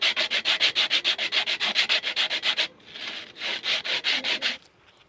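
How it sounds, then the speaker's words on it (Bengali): Pieces of PVC pipe being rubbed and sanded into shape, a fast, even rhythm of rasping back-and-forth strokes, close and steady, with a short pause before the strokes resume. "আমরা শেপ করে নিয়েছি এভাবে ঘষে।"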